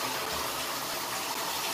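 Water gushes steadily into a bathtub, a loud continuous rushing hiss with no pauses and no talk.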